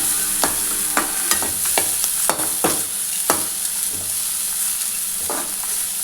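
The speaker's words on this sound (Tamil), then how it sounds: "தேங்காய் சேர்த்துட்டு லைட்டாக வதக்கினா போதும்," Grated coconut sautés in a pan for idli sambar, a soft steady sizzle broken by repeated scraping stirs of a spoon against the pan, close and without talk.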